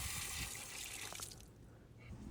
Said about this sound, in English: This is my faucet. So we're gonna open it full blast right there.